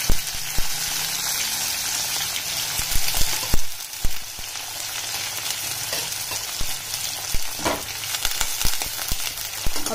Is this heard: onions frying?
yes